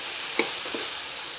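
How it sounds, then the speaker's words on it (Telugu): Vegetables fry in hot oil in a pan, giving a steady bright sizzle with a couple of brief scraping stirs, close and fairly loud, with no talking. "ఈ విధంగా మనం చక్కగా దీన్ని వేగేంత వరకు"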